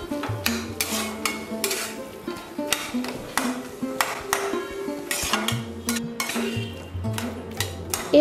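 Mashed potatoes being stirred with spices in a metal pan for aloo sabji: a spoon scrapes and clinks rhythmically against the pan in repeated strokes, close and clear, with no talking.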